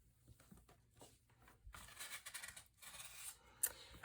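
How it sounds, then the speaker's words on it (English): Scissors snip through white paper poinsettia shapes for a festive sled tag, a run of quiet, close cuts with soft paper rustling and no talking. "you need to cut 2 for each poinsettia"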